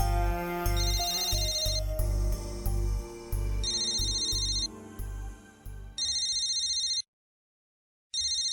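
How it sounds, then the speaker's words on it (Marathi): A phone ringtone sounds in a Marathi TV serial scene: a loud, bright electronic melody repeats in short chiming bursts over a bass-heavy beat, cutting off abruptly into silence before starting again. "तिळगुळकर, तुम्ही स्वतःला का फोन लावताय?"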